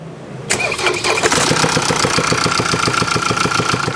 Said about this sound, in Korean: 시동 한번 걸어주세요.